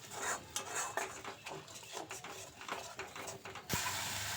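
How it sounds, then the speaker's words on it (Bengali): A spoon works through a spiced broccoli curry with whisked yogurt in a pan, making a near, steady run of scraping and light metallic clatter, with a brighter rush near the end. "আবারও ভালোভাবে সবকিছুকে একসাথে মিশিয়ে নেব।"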